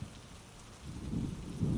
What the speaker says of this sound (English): it's kind of a spooky rainy night